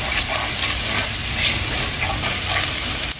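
Onions sautéing in a pan for pork giniling picadillo, giving a steady, close sizzle and hiss that runs continuously without a break.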